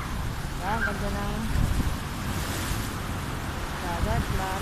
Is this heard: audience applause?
no